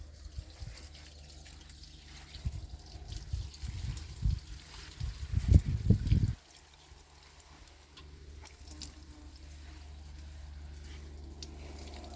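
Whey left over from making village lor cheese is poured onto flowers, garden plants and vegetables. It sounds as a close, uneven splashing trickle for a few seconds, then stops and leaves quiet outdoor background.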